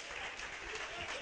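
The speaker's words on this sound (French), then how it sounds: "On applaudit pour Balodi." Brief, faint applause at a gala dinner, a soft steady patter of clapping from a distant crowd with voices underneath.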